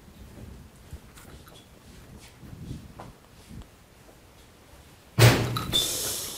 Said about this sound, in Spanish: Fue la puerta de atrás, Octavio.